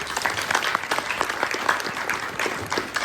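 An audience at a five-day event claps together in a steady burst of applause, close and lively throughout.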